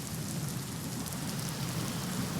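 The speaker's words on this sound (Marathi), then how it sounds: "पुण्यामध्ये मुसळधार सुरू आहे।" Heavy monsoon rain pours steadily in Pune, a dense continuous hiss of drops on surfaces, loud and unbroken throughout.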